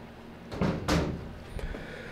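An oak bookcase cabinet door swings shut onto a magnetic catch, giving a soft double knock followed by a faint click, quiet and close.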